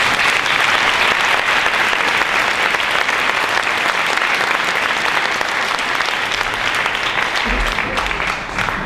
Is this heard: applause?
yes